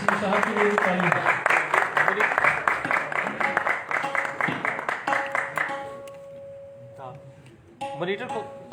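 An audience at a Teen Taal solo tabla concert breaks into applause for a performer coming on stage, a dense burst of clapping that tapers into scattered claps, with voices over the sound system underneath.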